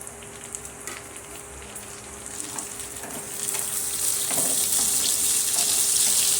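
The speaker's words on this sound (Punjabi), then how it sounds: "ਕੜੀ ਪੱਤਾ ਪਾਉਣ ਨਾਲ ਕੜੀ ਦਾ ਟੇਸਟ ਬਹੁਤ ਵਧੀਆ ਹੁੰਦਾ ਹੈ ਤੇ ਹੁਣ ਅਸੀਂ ਇਹ ਸਬਜ਼ੀਆਂ ਨੂੰ ਪਾ ਦਵਾਂਗੇ" A curry-leaf tempering for kadhi sizzles softly in a pan, then swells to a louder, sustained hiss as mixed vegetables are tipped in and stirred.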